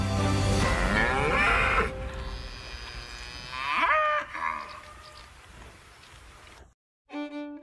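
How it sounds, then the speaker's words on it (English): Wagyu cattle mooing: several long, drawn-out moos, close and fairly loud, following one another with brief gaps and no voices. "we follow Wagyu cattle"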